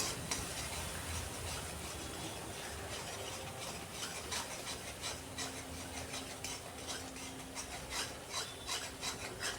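Ground spices for a rohu fish curry with pointed gourd and potato are sautéed and stirred in a pan, making a continuous, fairly quiet scraping and rasping close by, with no voices.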